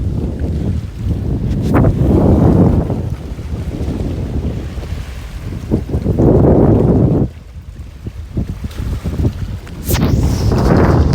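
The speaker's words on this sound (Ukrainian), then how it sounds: "Є тільки трошки вітер, тому що тут дуже велика площа води." Gusty wind over a large lake roars and buffets the microphone in waves, with faint water noise beneath and a brief lull near the end.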